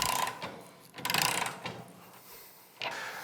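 A Yamaha Raider motorcycle being raised on a lift gives a run of mechanical ratcheting clicks and clunks in irregular bursts, moderately close, with a sharper clack near the end.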